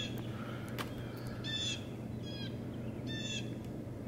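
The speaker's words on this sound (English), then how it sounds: "birds are chirping" Birds chirp outdoors on a snowy day, a few short bright calls in separate bursts, fairly distant and soft over a steady low background hum.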